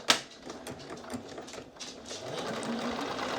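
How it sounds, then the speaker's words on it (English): A sewing machine stitches the two short ends of cashmere-style pants with a half-inch seam allowance, a sharp click at the start followed by a steady whirring run that builds slightly louder. "let's go to the sewing machine and let's sew those 2 short ends"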